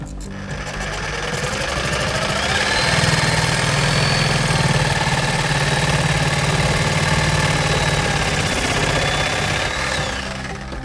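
A Sawzall reciprocating saw cuts through pipe, a loud, steady, rapid buzzing rattle that swells and holds for about ten seconds before easing off, close up with no talking.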